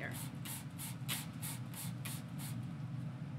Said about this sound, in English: I'm going to spray a lot of water on here.